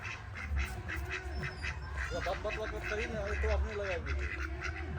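Several ducks quack in a busy outdoor village yard, with a burst of rapid, repeated calls in the middle, heard over constant low background rumble and people talking nearby.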